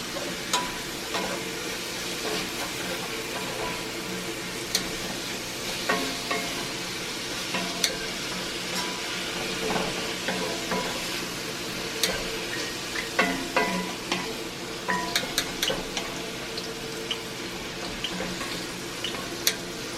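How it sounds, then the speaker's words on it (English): Stirring and sizzling of a BBQ pork stir fry with sesame oil in a cast iron pan, a steady hiss broken by frequent scraping clicks of the utensil throughout, close up with no talking. "Now I'm going to give this a stir."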